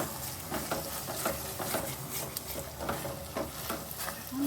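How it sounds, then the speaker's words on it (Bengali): Spices with crushed kasuri methi frying in a pan for a homestyle mushroom masala curry, a soft steady sizzle broken by regular scraping stir strokes, close but fairly quiet. "কচুরি মেথিটা হাতে একটু গুঁড়ো করে দিয়ে দেব। ভালো করে কষিয়ে নেব।"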